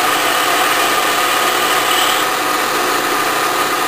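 A Bridgeport mill with a Criterion boring head takes a roughing cut through a bore, producing a loud, steady hissing whine of spindle and cutting that holds even throughout.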